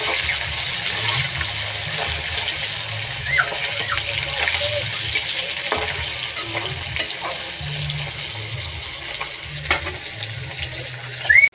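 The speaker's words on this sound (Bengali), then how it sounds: "তো চলো আর একদিকে ভাজবো, হালকাভাবে উল্টে দেবো ভালো করে একটু।" Fish frying in oil in a pan, a steady close crackling sizzle throughout with a low hum beneath and a brief louder clatter at the very end, no speech.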